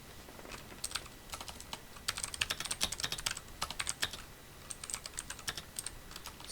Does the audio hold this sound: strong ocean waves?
no